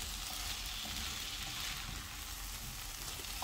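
Champignon mushrooms, diced carrot, potato and onion fry in a pan for mushroom soup, giving a steady close sizzle with faint crackles throughout, heard alone without talking.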